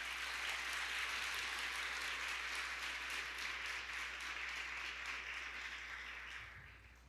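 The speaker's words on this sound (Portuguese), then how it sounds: "Você pode aplaudir o Senhor por isso?" A church congregation applauds in a sustained wash of clapping that holds steady for several seconds, then gradually fades toward the end.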